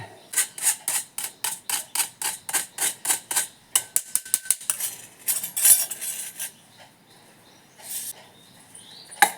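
A spoon mixes gram flour powder in a bowl for chocolate barfi. A fast, regular run of crisp clinks and taps gives way to looser, irregular scraping, close and fairly loud, with no talking.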